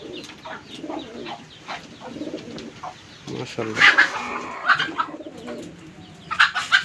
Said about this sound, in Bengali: কবুতরের ডাক দেখুন।